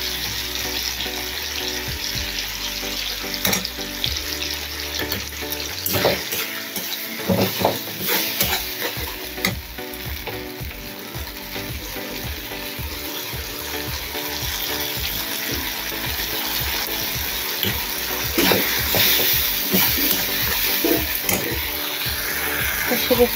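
Mustard and poppy seed paste with softened tomato fries in a pan for a pabda fish curry, giving a steady sizzle with scattered clinks of stirring and some water sounds, moderately loud throughout.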